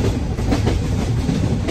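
A moving passenger train rumbles steadily in a short, continuous burst of rolling noise with a dense, rattling texture and no voices.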